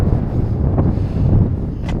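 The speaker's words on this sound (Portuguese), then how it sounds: "Tá ventando um pouco hoje." Steady wind buffets the microphone in a constant low roar on a seafront promenade in São José, Florianópolis, with a couple of brief gusty swells, no voices.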